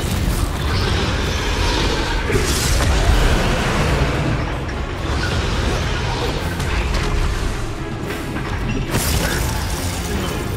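Confringo fire-blast spell in the Hogwarts Legacy video game, heard as dense, loud booming bursts and mechanical clatter throughout a busy battle, with brief broadband cracks near the start and end and a voice shouting over it.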